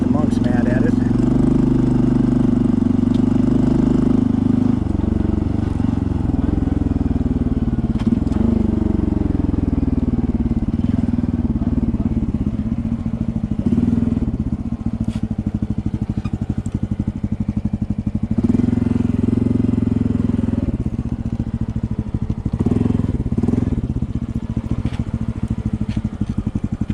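A Honda CT125 motorcycle idles near a mountaintop temple, its low steady engine putter running continuously close by while someone talks over it.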